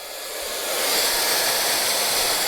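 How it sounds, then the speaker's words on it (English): A hair dryer blows steadily on hair, its broadband airflow rising in loudness over the first second and then holding a constant, close whoosh with no talking. "So you can see I'm still using the airflow to dry my hair."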